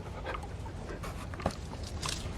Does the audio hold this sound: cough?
no